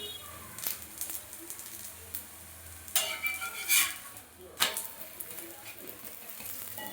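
A thuthuvalai roti cooks on a pan with a low sizzle, broken by a few sharp scraping and flipping sounds close by, and quiet background noise in between.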